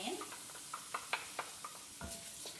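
Chopped onion drops into a warm pan for a cabbage dish, giving a soft sizzling hiss broken by several sharp clicks and taps of stirring utensils against the pan, close and fairly quiet, with no talking.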